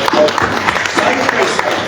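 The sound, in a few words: audience applause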